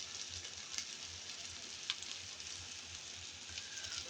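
Steady, faint sizzle of spices frying in a pan as ground turmeric goes in, a soft continuous crackle with a few light clicks.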